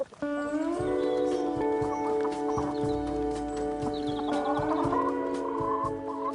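Rescued battery-cage chickens, including a cockerel, cluck steadily and close by, with sustained tonal calls layered over a continuous hen-house din throughout.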